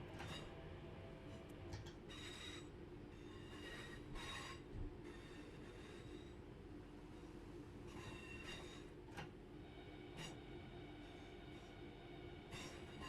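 A Class 323 electric multiple unit runs in Train Sim World 4, rolling along with a steady low rumble, rhythmic wheel clatter and repeated squeals, heard alone without talk.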